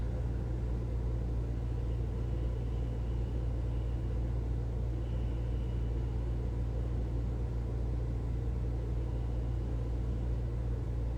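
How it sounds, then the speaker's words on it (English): Steady low rumble of distant traffic fills the background throughout, a continuous faint hum with no talk or distinct events. "amongst the sounds of the distant traffic or air conditioner in that background"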